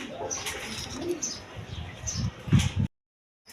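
Pigeons coo softly and repeatedly at a breeding loft amid rustling and faint chirps, with low murmuring sounds under the calls before an abrupt cut to silence.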